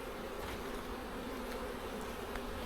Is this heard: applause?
no